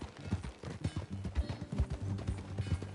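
In Red Dead Redemption 2, a horse's hooves clip-clop steadily at a brisk walking pace, close and clear, with a faint low hum beneath the rhythmic thuds.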